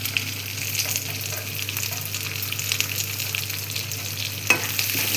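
A medium-sized onion fries in a pan with a dense, steady sizzle and crackle, close and loud, broken by an occasional sharp knock of a utensil against the pan.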